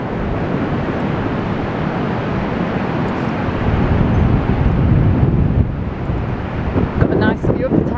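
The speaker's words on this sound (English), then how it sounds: "So the wind's blowing into my back," Strong wind buffets the microphone on the Blackpool seafront near Central Pier, a continuous loud rumbling roar that swells in gusts, with no speech.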